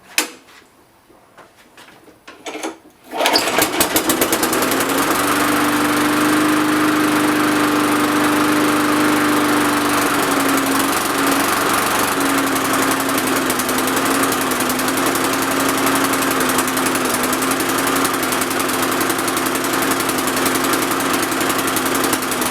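A Briggs and Stratton small engine, fed non-ethanol fuel and running too rich, starts after a few seconds of handling noises and then runs loud and close with a droning, slightly wavering surge.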